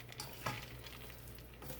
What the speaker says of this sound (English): So I'm mixing it all in.